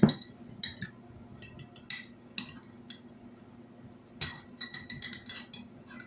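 A metal fork clinks and scrapes against a plate while pickles are sliced, in irregular bursts of sharp taps close up, with no talking.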